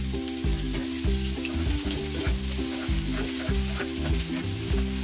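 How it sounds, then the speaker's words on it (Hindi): Finely chopped onion frying in hot oil in a pan, a loud continuous sizzle with repeated rhythmic scraping strokes of a spatula and low tonal background music, no talking. "अब इसे अच्छे से हमें लाइट ब्राउन होने तक फ्राई करना है"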